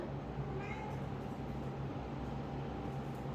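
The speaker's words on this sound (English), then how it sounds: "that's my cats. The meow that you hear" A cat meows faintly once near the start, nearly buried under a constant low indoor hum.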